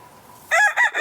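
A rooster crows nearby, one loud clear cock-a-doodle-doo rising out of quiet outdoor background after a brief lull, with more roosters kept somewhere behind.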